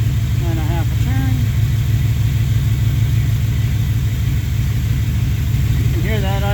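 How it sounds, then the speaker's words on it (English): The engine of a 1985 Chevrolet K20 truck idles with a loud, steady low rumble that runs unbroken the whole time, while a voice talks briefly over it near the start and end. "You can hear that idle change shift to touch."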